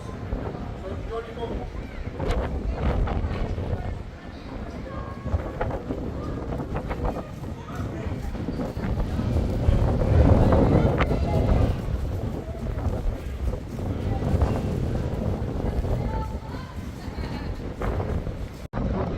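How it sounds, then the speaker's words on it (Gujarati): Strong wind buffets the microphone in a constant roar with gusty swells at a coastal cove near Perranporth, Cornwall, while a person talks intermittently beneath it. "જો કેટલું જોરદાર પવન છે."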